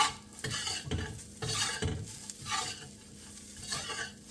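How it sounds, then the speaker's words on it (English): Egg white fried rice seasoned with salt and white pepper being tossed and stirred in a hot pan, with repeated scraping strokes over a steady sizzle and occasional clinks of utensil on metal, close and alone without talk. "just toast this or toss it around a bit."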